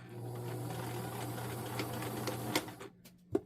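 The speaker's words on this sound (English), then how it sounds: "So now I'm going to back stitch" A Simplicity 8614 sewing machine runs quietly, reversing to back stitch, a soft steady hum that stops near the end and gives way to a few faint clicks and a small knock.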